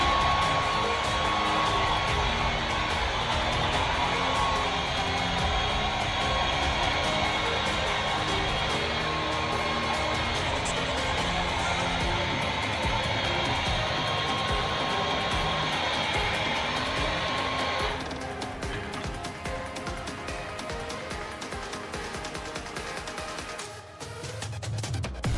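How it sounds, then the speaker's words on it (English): Blow dryer drying hair, a loud continuous whooshing roar held close for most of the stretch, dropping to a lower, softer setting near the end before cutting out. "you need to use a blow dryer on your hair"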